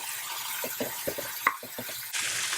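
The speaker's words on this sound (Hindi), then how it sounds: "इसमें मैं डाल देती हूँ ये उबले हुए चने" Boiled chickpeas go into a pan of frying cumin, giving a few soft stirring scrapes and light clinks over a steady low sizzle that brightens near the end.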